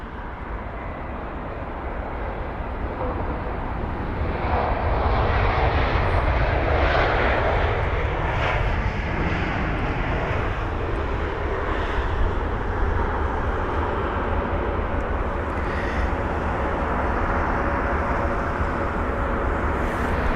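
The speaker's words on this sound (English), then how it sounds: "The A321 neo is actually brand new, registered in January 2023, and it is right on time for its arrival" A brand-new Airbus A321neo from Istanbul arrives at London Heathrow, its engines a continuous broadband roar that swells and lingers as it passes close by, with no talk over it.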